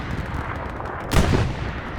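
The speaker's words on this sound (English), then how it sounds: "Yep, artillery's back up." Distant artillery shelling in the World War II shooter Hell Let Loose during a tournament match, heard as a booming impact swelling midway over steady battlefield rumble, with no talking.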